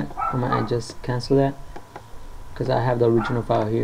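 Dogs bark and yip in the background, faint and intermittent, beneath someone talking steadily close up.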